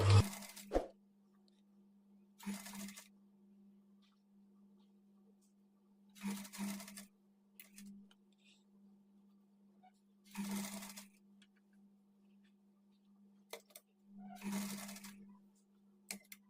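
A sewing machine stitching pleated sleeve frills one at a time runs in short separate bursts with quiet pauses between them over a steady low hum, close and fairly faint.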